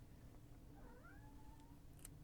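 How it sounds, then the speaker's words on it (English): A domestic cat gives a short, faint meow with a rising and falling pitch, heard against steady low background hum in a quiet room. "There's my cat."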